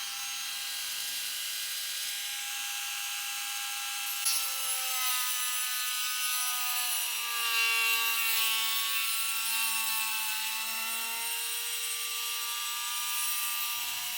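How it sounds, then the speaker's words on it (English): A high-pitched Dremel rotary tool with a sanding drum whines and grinds continuously against a hardened eggshell, opening a hole, its pitch wavering slightly as it sands, with no voices. "Now I'm using a little sanding drum on the Dremel, and we're opening the hole."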